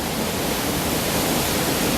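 Horsetail Falls in the Columbia Gorge pours in a steady, dense roar of falling water, broadband and unbroken, close and loud with no voices.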